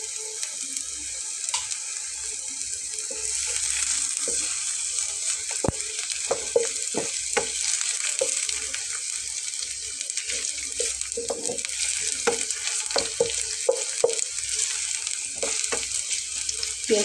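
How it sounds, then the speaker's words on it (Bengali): Long slices of a large onion fry in oil with a steady, moderate sizzle. Scattered light pops and clicks of stirring run through it, with no talk. "পেঁয়াজটাকে একটু হালকা লাল করে ভেজে নেব"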